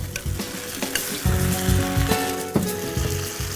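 Fried chillies and masala sizzling loudly in a pan for mirchi ka salan, with spoon scrapes and stirring strokes breaking through the steady crackle.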